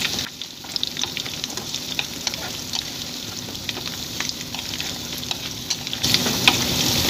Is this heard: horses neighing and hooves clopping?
no